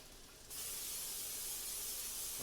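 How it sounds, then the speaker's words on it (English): Canola cooking spray hisses steadily onto a pan, a sustained bright rush starting after a brief softer lead-in, close and alone. "We're gonna spray our pan down with a nice high burning point oil. We're using some spray canola right now."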